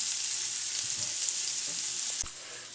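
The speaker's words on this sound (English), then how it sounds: "We're going to fry off our crispy leeks in this." Leeks crisping in rendered duck fat over raised heat, a steady, close, bright sizzle that runs evenly with a few faint stirring knocks, then thins slightly near the end; no one speaks.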